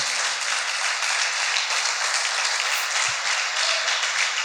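A church congregation at a men's conference applauds, giving a steady, moderately loud wash of many hands clapping that runs evenly throughout with no voices above it.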